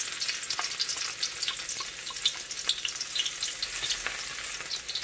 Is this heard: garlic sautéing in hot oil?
yes